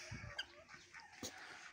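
Koli chickens in a backyard coop cluck faintly and sporadically, a few soft calls at a distance with no voices.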